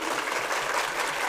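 An audience applauds at a talk, a brief, dense burst of clapping, fairly loud and without voices.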